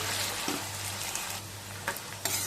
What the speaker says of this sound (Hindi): अब गैस की मीडियम फ्लेम पे अरबी को ऑलमोस्ट गलने तक हम अच्छे तरीके से भून लेंगे, यानी कि फ्राई कर लेंगे।